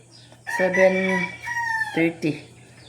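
Chickens being fed give a short, close burst of clucking and crowing-like calls, a few loud drawn-out vocalizations in under three seconds, over a faint steady low hum.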